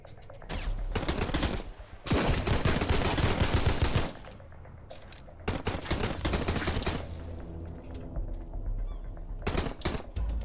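Machine gun fire in the survival video game Sunkenland, loud sustained automatic bursts in several long volleys separated by short pauses, close and dense.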